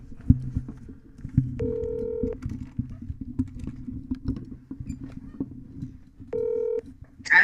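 Outgoing phone call with two long electronic ring tones separated by a pause, heard close over a steady low hum and soft tapping, ending with a short bright tone.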